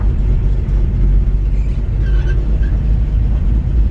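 A 1954 Chevrolet 5-Window pickup truck engine gives a steady, loud rumble with a low idling drone, continuous throughout and close by.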